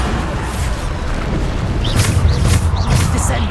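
Bombarda blasting spell from Hogwarts Legacy going off as a dull, rumbling boom inside continuous battle noise, with a few brief bright bursts and chirps late on; no clear separate impact stands apart.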